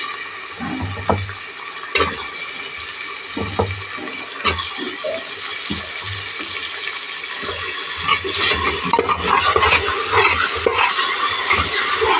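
Food sautés in a pan for rice rasam, with a soft steady sizzle and scattered scraping stirs at an irregular pace close up. The frying grows louder and busier toward the end.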